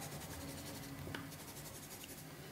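Quiet, soft scratching of a felt pen moving across paper in short strokes, faint and close.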